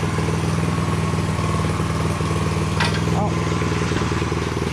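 A garden tiller's small engine runs steadily close by, a constant low throbbing drone with a slight clatter filling the whole stretch, and a voice speaks briefly over it.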